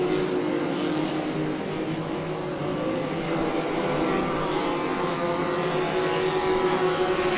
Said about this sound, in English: Alcox with a great run as they go down the front straight in front of this crowd here at Crandon International Off-Road Raceway.